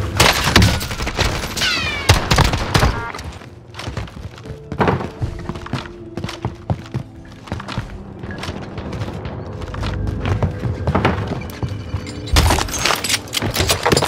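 Rapid bursts of AK rifle fire in the Warzone video game, loud and close, with heavy thuds and booming impacts scattered across the whole stretch and short pauses between volleys.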